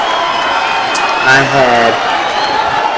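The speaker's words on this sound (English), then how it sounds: "listen to this crowd" A boxing arena crowd roars and cheers as two fighters face off before a Mayweather vs Berto bout, a dense, steady swell under someone talking loudly over it.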